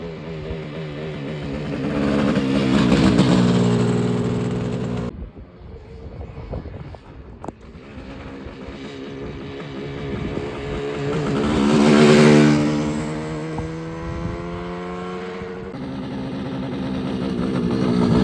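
A 1979 Yamaha RD400 Daytona Special two-stroke motorcycle rides away and returns on the road, its engine note rising and falling with wind rush, loud and close, then fading and swelling again.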